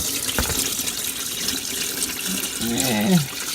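Engine oil pouring from the drained sump of an Audi A8 into a catch container below, a steady liquid splatter and trickle throughout, with a brief whistling tone near the end.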